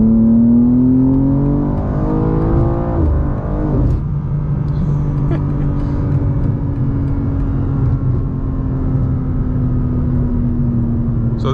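A G87 BMW M2's engine climbs in pitch under throttle for a few seconds, then settles into a loud, steady, close-up drone that holds to the end.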